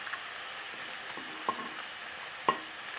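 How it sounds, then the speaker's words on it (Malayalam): Onions sauté in a pan with chopped garlic for a fish curry, producing a constant close sizzle with a few sharp stirring clicks. No one speaks. "ഉള്ളി ഒന്ന് വഴകട്ടെ"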